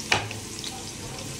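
Dried onion dropped into hot oil in a pan while cooking a red snapper fish curry, a sharp burst of sizzling at the start settling into a steady crackling fry, close and clear with no talk.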